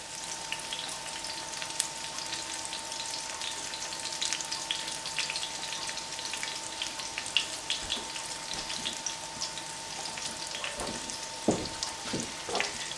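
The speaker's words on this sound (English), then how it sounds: "So we're going to place these in and get these all nice and fried up." Chicken pieces fry in hot oil with a steady, moderately close sizzle and scattered pops, a few sharper crackles and spits near the end, with no talking.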